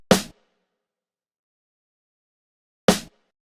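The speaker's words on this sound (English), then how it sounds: "So a very dry snare," Two dry, tight snare drum hits with no reverb tail, one at the start and another almost three seconds later, each short and punchy with silence between.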